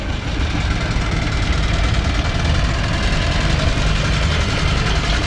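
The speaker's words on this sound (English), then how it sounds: "Little Shannon's engine coming in here" A miniature steam traction engine chugs and rumbles loudly and continuously at close range at a steam rally, with a dense low mechanical throb throughout.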